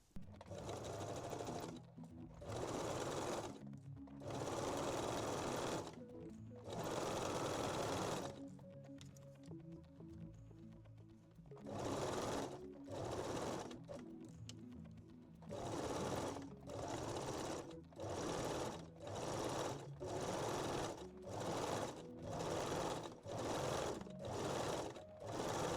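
A sewing machine zigzag-stitches elastic onto the edge of a reversible bikini bottom, running in repeated close bursts of rapid needle whir separated by short pauses, the bursts growing shorter and more regular toward the end.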